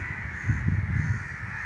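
A crow caws a few times in quick succession, moderately distant, over a steady background hiss with no one talking.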